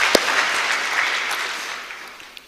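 Conference audience applauding in a hall, a broad steady wash of clapping that begins loud and slowly fades over a couple of seconds, with a few sharper individual claps standing out.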